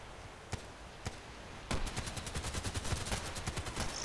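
Gunfire in a sniper video game on the Old Sawmill map: two single sharp shots, then a rapid burst of automatic fire, loud and close with no talking.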